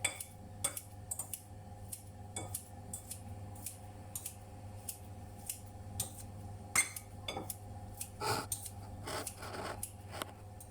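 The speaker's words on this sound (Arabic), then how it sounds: "ودابا اخوتي غادي نبدا تنقطع لا فيرميسيل ديالي على هاد الشكل" Drained vermicelli noodles being cut, a series of sharp, irregular snips and clicks over a quiet background hum, close by and with no talking.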